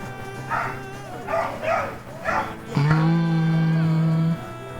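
A dog gives several short barks at a regular pace, followed by a long, steady, tonal whine or howl.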